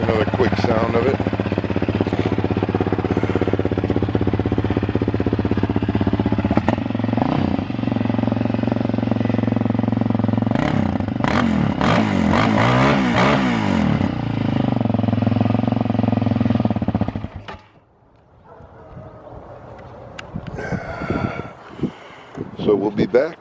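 A 2006 Yamaha Raptor 700R ATV engine runs loud and close at a steady idle with a few rev bursts, then cuts off abruptly near the end, leaving quieter background noise.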